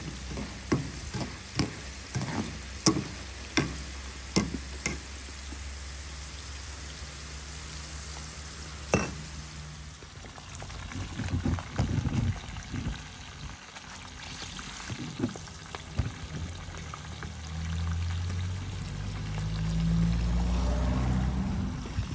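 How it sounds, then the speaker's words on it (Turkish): Peppers frying in a pan on a wood-burning cookstove, with irregular crackling pops and a soft sizzle that builds into a steadier, louder frying hiss toward the end, with no talk. "Evet arkadaşlar, biberimizi kızartmaya başladık."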